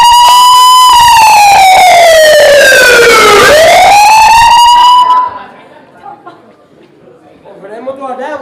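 An ambulance siren wails on a Punjabi comedy stage, a loud rich tone that sweeps down and then back up over about five seconds before cutting off, leaving low crowd murmur and voices.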